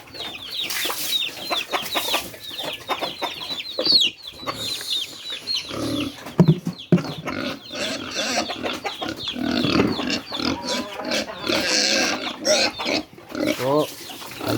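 Young pigs and a sow on a pig farm squeal and grunt in frequent loud bursts, with a voice talking over the noise.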